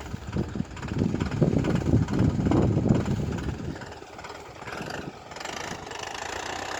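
A Lovol Foton tractor engine rumbles nearby while pruning an orchard with a contour trimmer, louder and rougher in the first half, then settling to a steadier idle with some wind noise.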